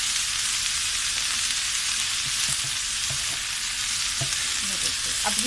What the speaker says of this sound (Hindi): बस अभी से जल्दी जल्दी सब सब्जियों को हम मिक्स करते जाएंगे